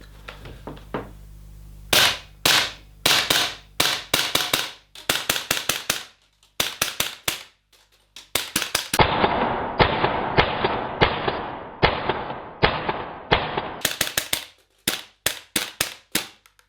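Rapid sharp pops from an Umarex/KWA Beretta PMX gas blowback airsoft gun fired at a target in quick bursts and rapid strings with brief pauses, loud and close.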